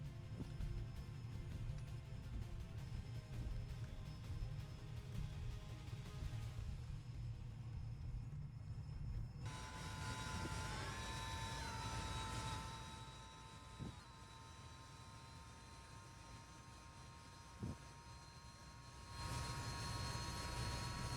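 An aircraft in War Thunder roars as it prepares for takeoff, a steady engine rumble that shifts to a higher whining tone partway through, then swells again near the end, with no talk.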